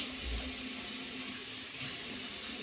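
Water runs steadily from a faucet into a sink while hands are rinsed of soap, a continuous close splashing hiss that stays even throughout.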